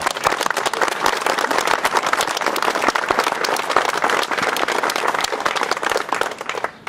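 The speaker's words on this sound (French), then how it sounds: "On peut les applaudir" Applause at a May 8 commemoration ceremony in Vieux-Boucau for three pupils: a crowd claps steadily and fairly close, with individual claps audible through the sustained ovation before it tails off.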